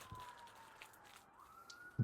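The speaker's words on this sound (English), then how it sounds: "Apologies if you can hear that siren." A police car siren wails faintly outside as it passes, a thin rising and falling tone far off in a quiet room, with a soft knock at the end.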